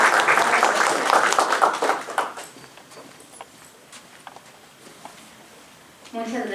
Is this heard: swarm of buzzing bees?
no